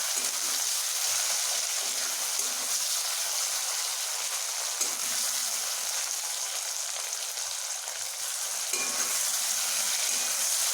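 Chopped tomatoes fry in a pan over tempered spices while cooking a parshe fish dish, producing a loud, continuous bright sizzle with occasional stirring knocks throughout.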